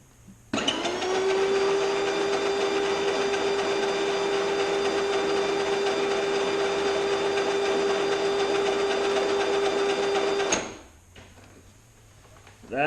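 A homemade 18-volt power wheel motor whirs steadily at mid-range speed for about ten seconds, loud and even with a high constant whine, then cuts off abruptly and winds down into near quiet.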